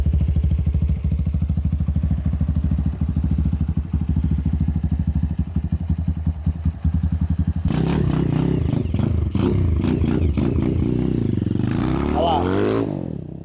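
A Honda CBX Strada 250cc motorcycle starts up and runs, its steady close engine chug shifting into a rougher, revving clatter partway through, with some revs rising and falling near the end.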